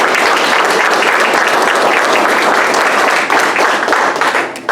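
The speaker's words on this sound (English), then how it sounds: "Let's give a round of applause for our newest Dirtboy." An audience at a military graduation ceremony for the Dirt Boyz civil engineering class claps loudly, a dense, sustained wash of applause that begins to thin slightly toward the end.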